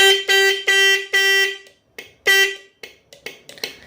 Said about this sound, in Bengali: তো আমাদের হর্নটা বাজবে এরম ভাই